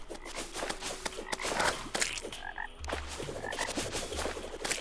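A frog in the Terraria game croaks in a few distinct low burst calls, close and clear, mixed with soft game effects and footstep-like taps, with no speech.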